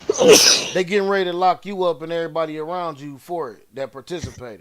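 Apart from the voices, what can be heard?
sneeze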